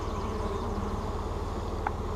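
Honeybees crowding over a dead queen in a laying-worker hive hum in a steady, close drone, with one brief brighter tone near the end.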